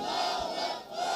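A large gathering at an Islamic waz sermon answers a takbir call with a loud, unified chant of "Allahu Akbar", a sustained massed shout filling the space for a moment.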